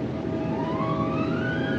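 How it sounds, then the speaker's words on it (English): An aircraft engine in a 1953 war film drones steadily with a rising whine as it throttles back, loud and continuous with no talk over it. "The engine changed its noise."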